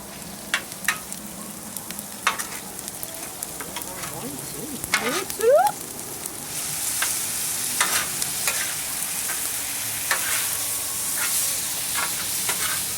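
Cauliflower rice, tipped straight from the package, sizzles on a Blackstone flat-top griddle. A steady frying hiss swells midway, with scattered metal spatula scrapes and stirring clicks throughout and no talking.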